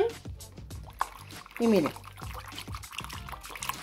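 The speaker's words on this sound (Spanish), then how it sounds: "Aquí mismo, con la que estoy vaciándole el agua." Water splashes and trickles as it is emptied from a container while liquid laundry detergent is being made, with a person talking over the pouring.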